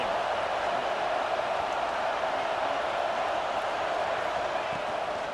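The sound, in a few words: crowd noise in an American football video game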